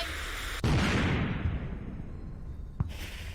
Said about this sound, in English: suddenly you hear an explosion